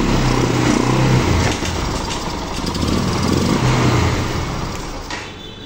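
An old Aprilia motorcycle engine runs with a jerking fault, its steady drone surging and dipping unevenly, loud and close throughout with no talk.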